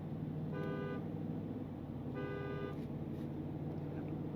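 Horn of a 2026 Ford F-350 Super Duty King Ranch 7.3 pickup, heard from inside the cabin: two muffled, fairly faint honks about a second apart over steady cabin road noise.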